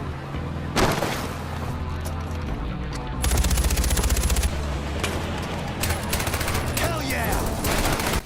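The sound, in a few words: gunfire while shooting a boss in a video game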